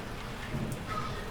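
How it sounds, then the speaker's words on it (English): Steady rain falls in a continuous soft hiss outside a haunted Victorian mansion, faint and even throughout with no other sounds. "listening to the rain, listening to the wind"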